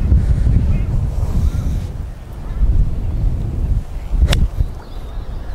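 Strong wind sweeps across an outdoor golf range, a loud, continuous low rumble and buffeting against the microphone that rises and falls in gusts, with one brief sharp sound near the end.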